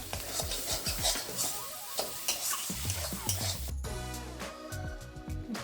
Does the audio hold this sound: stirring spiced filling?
yes